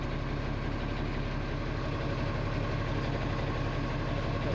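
An International Acco 1850D truck idles with its exhaust missing, giving a loud, continuous, even engine drone with a steady rapid pulse and a faint whistle riding on top.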